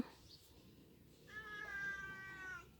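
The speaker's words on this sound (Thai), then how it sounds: "แมวแมวคนข้างบ้านชอบมาอยู่บ้านเฮา" A neighbour's cat gives a single long, drawn-out meow partway through, quiet and somewhat distant against a low background hum.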